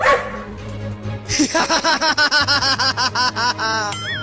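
A cartoon dog barks in a quick run of loud, bouncy yips and bow-wows, the barks tumbling rapidly one after another over cartoon music with a rising whistle at the end.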